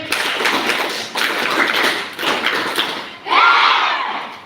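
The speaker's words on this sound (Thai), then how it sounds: "ปรบมือสามครั้ง" A group at an academic and entertainment camp claps together in three dense bursts of roughly a second each, separated by brief dips, with a short bright tone rising at the end.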